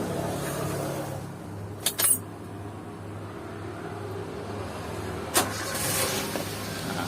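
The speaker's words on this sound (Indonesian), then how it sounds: "terus kita hidupkan mobilnya bro" A 2014 Toyota Avanza being started, a brief starter crank and engine catch heard twice over a steady idling hum, close and moderately loud with faint clicks.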